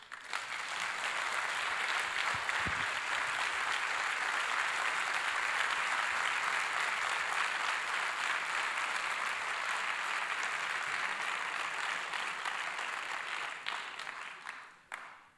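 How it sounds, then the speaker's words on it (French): An audience at a ceremony gives an orchestra a long, sustained ovation, a thick, even roar of clapping that holds steady for many seconds before tapering off at the end. "je vous demande un torrent d'applaudissements"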